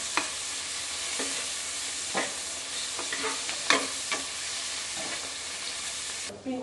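Onions sizzle steadily in a hot pan for yakhni pulao, with a spoon scraping and stirring through them in irregular clicks and scrapes, close and fairly loud, with no talking.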